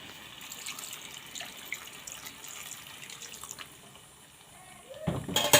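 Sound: water poured into mustard paste curry

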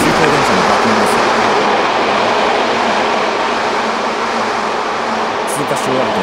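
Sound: loud Tokyu 8500 series express train passing a station

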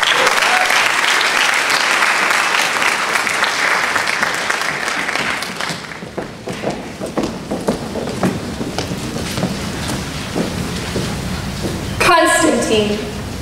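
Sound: audience applause at speech night

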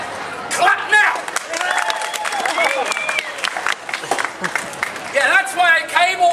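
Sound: audience clapping at street performance

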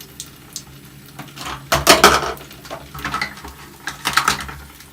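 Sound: washing dishes, pots and pans

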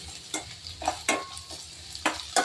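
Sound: onions frying in oil

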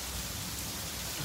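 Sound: rain during a walk

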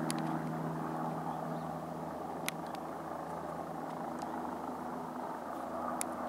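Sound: helicopter hovering nearby

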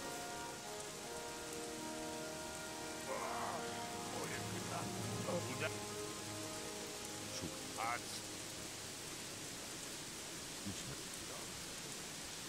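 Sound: rain in a video game

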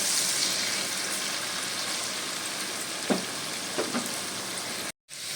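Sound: bitter gourd frying in pan

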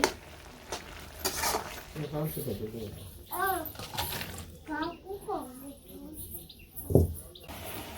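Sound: stirring spice powders into curry in pan

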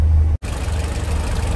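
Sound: 1966 Morris Minor engine idling, bonnet open

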